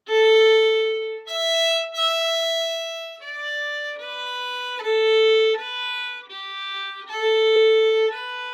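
A fiddle plays the second phrase of the Irish tune O'Keefe's Slide, clear bowed notes in a simple melodic line heard alone and close.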